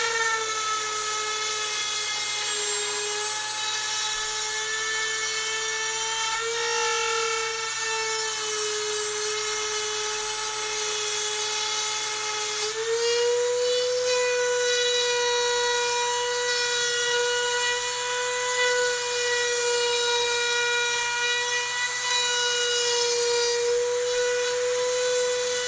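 A rotary tool cuts a rosette channel into an acoustic guitar top, its high steady whine holding constant with slight pitch shifts as it moves back and forth, loud and close throughout with no talk.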